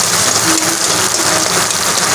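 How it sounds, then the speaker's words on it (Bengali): Heavy rain pours down steadily outdoors, a dense, continuous hiss of water striking the roof and ground, close and loud throughout with no voices. "অতিরিক্ত বৃষ্টি মেয়েরা কিন্তু ছাদে ভিজতেছে এই দেখেন পানি এদিক দিয়ে পড়তেছে"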